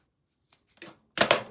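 Scissors snip material for a DIY bunny ear decoration in a few quick, close cuts, a couple of small clicks followed by a louder, sharper double snip at the end.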